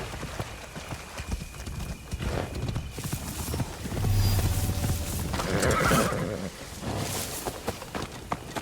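A horse in Assassin's Creed Shadows whinnies loudly while hooves clip-clop steadily beneath, close and clear against a noisy game background.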